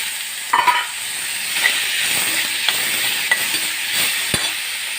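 Onions sautéing in a pan for capsicum gravy give a steady, close sizzle and hiss, with a few scraping stirs of a spoon against the pan. No one speaks.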